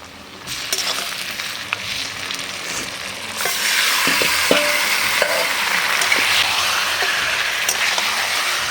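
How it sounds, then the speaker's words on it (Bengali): Marinated chicken goes into a pan of onions fried light red over a wood fire, the gentle sizzle jumping to a loud, dense crackle with a few clinks of a spatula stirring. "পেঁয়াজটা হালকা লাল করে ভাজা হয়ে গেছে, এবারে চিকেন, ম্যারিনেট করা চিকেন দিয়ে দিচ্ছি।"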